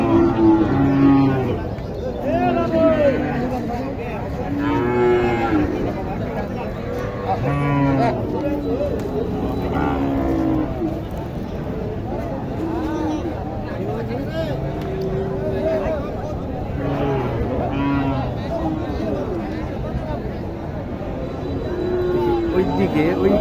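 Cattle moo repeatedly at a busy rural cattle market in Naogaon where Sahiwal heifers are sold. The lowing calls come near and far over constant crowd chatter, with people talking throughout.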